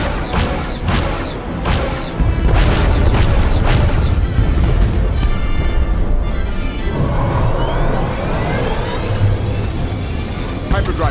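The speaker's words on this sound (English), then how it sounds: "Enemy ships are opening fire." Ship-to-ship battle in SWTOR as enemy ships open fire: constant loud booms, crashes and whooshing blasts pile up over a roaring engine bed, with voices talking over the action.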